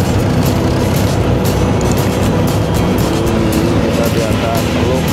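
Car engine rumbling as a car drives onto a ferry crossing a bay in Indonesia, a steady loud low drone with vehicle and crowd noise throughout and people talking over it.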